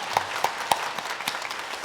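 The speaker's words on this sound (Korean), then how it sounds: "잠깐 자리에서 일어나시면 박수로 환영하도록 하겠습니다." A church congregation at Sunday worship claps to welcome newly registered members, a brief scattered round with a few sharp claps standing out, heard indoors at moderate distance.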